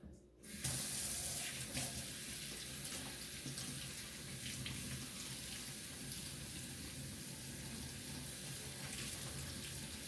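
A Bulbophyllum orchid is rinsed under a running tap, with a steady, close rush of water splashing into a sink for the whole stretch and no talking.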